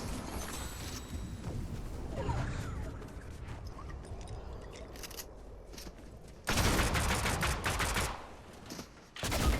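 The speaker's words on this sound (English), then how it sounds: "Wow, that little pistol packed a punch." Pistol gunfire in the Fortnite video game, with rapid clusters of shots within a dense, loud game soundscape and a sharp, heavy burst of firing toward the end.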